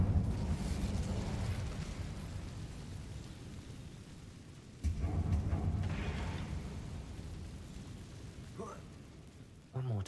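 Incendio fire spell in Hogwarts Legacy, a roaring whoosh of flame with a crackling, hissing texture, surging twice in two loud bursts before fading.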